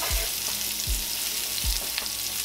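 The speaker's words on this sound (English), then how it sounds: "We'll let these saute for a minute." Country-style BBQ ribs sauteing in hot oil give a steady, close broadband sizzle, with three soft low thumps of the pan or ribs being moved spaced through it.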